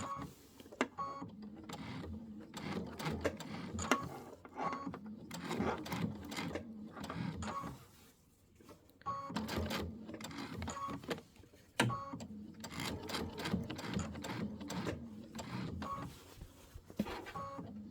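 A sewing machine stitches dimensional flowers onto a fabric wall hanging, running in steady whirring bursts with short stops between them, close and fairly loud, with no voices.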